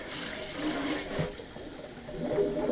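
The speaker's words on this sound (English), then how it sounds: "Alright, I'll wash them here, and I'll wash them here. And give them one more rinse over here." Turnip greens are rinsed under running water, a close splashing flow that swells and dips as the leaves are moved through the stream.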